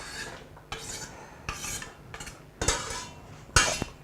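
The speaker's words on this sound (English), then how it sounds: "you give a good stir to make sure the onions and the garlic are well impregnated with olive oil" Onions and garlic stirred in olive oil in a pan with a utensil, scraping and clinking against the metal in a handful of distinct strokes, close and fairly loud with no talking.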